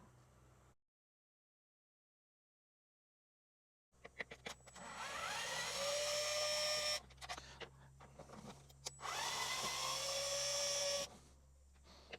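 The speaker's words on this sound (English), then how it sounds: "So I'm going to go ahead and remove those screws" Screws are removed from a Traxxas TQi radio transmitter: after a brief low hum and a silent gap, two long whirring motor bursts rise in pitch, loud and close, with small clicks between them.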